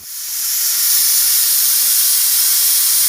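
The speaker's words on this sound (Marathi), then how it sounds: "इथे कुकरची एक शिट्टी झालेली आहे" A pressure cooker vents with a loud, steady, broadband hissing whistle of steam that swells up within the first second and holds unbroken, close and alone with no voices.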